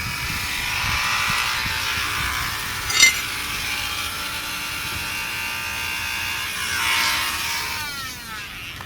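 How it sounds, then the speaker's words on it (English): A homemade grinder fitted with a grinding stone spins up with a steady, close mechanical whine and buzz. A brief sharp click lands partway through, and the pitch swells and shifts near the end. "So I have a grinding stone on it, and hopefully that's going to work."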